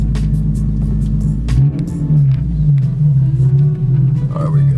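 Nissan 370Z with a worn clutch idling and creeping into a driveway, a steady low engine rumble with a brief rev partway through, close and loud throughout.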